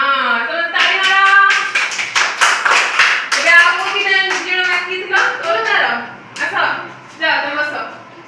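Children clap their hands in a steady rhythm during a classroom play activity, the claps mixed with loud voices chanting or singing along nearby.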